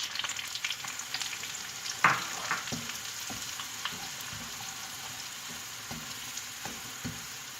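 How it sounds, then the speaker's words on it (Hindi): Semolina sizzles and crackles steadily in a hot pan for suji halwa, with a sharp stirring scrape near the start and a few soft clinks of the spoon afterward, close and continuous with no voices. "अब इसमें सूजी डाल दूंगी।"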